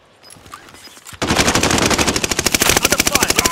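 Rapid automatic gunfire in a shooter game, with dozens of evenly spaced, loud, close shots rattling in a sustained burst after a brief quieter lead-in.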